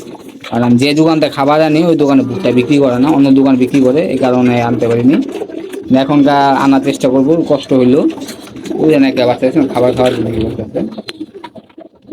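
Pigeons coo in repeated, rolling bursts close by, loud and rhythmic, with short pauses between phrases and no talk over them.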